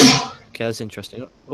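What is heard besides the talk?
sneeze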